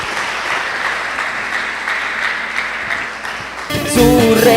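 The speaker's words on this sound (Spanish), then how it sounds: "Den un aplauso al Señor." A church congregation applauds in praise, a steady, fairly loud wash of clapping that holds for several seconds before music cuts in near the end.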